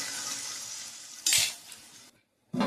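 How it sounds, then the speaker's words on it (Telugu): Onions frying in a pan on a village-style stove, a soft continuous sizzle broken by a sharp lid or utensil clatter, a brief silence, then the sizzle returning loudly. "ఇదండి అయితే వేయించుకోవాలండి ఉల్లిపాయలు"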